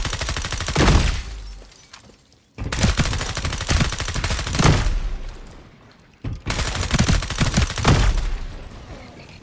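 Rapid automatic gunfire from the firing range in the video game FragPunk, loud and close, in three long sustained bursts separated by brief pauses.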